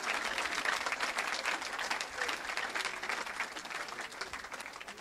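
A church congregation in Evry, France applauds in acclaim of Jesus, dense sustained clapping from a large crowd filling the room evenly throughout, with a faint murmur of voices beneath.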